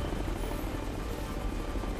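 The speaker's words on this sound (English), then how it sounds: "that helicopter almost saw me" A helicopter in the video game Ghost Recon Future Soldier flies overhead, its steady rotor thrum and engine roar filling the scene at a constant level.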